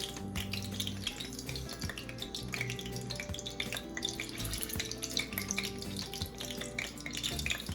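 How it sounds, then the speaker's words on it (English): Hot oil sizzles in a frying pan during a Jamaican escovitch fish preparation, a steady close crackling hiss that runs unbroken for several seconds with faint kitchen clatter and no talking. "when you hear it sizzle, you know it's hot enough"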